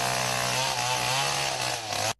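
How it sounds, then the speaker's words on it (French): A chainsaw at full throttle cuts through wood as local residents clear National Road 5 after a landslide blocked it. It is loud and steady for about two seconds, then cuts off abruptly. "Tronçonneuse à la rescousse"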